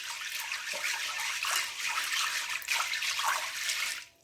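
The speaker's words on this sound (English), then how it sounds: "run your hands through them like this and kind of wash them" Water splashes and trickles steadily as hands swish through dry beans in a bowl, a continuous wet rinsing sound with small bursts, no talking.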